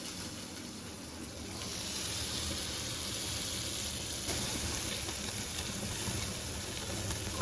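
Onions and curry leaves hiss in a hot pan, giving a steady, broad sizzle that swells slightly after the first couple of seconds and holds on without talk.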